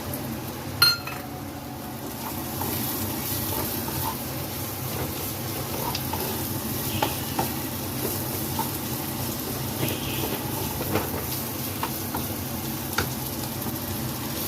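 Spiced masala sautéing and being stirred in hot oil for Bengali ghugni, a steady low sizzle with occasional clinks of a spoon against the pan, continuous and close with no talking.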